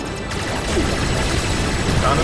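Heavy rapid gunfire in Kingdom Hearts 3 combat, a dense continuous rattle of shots, loud and close, with a voice talking over it.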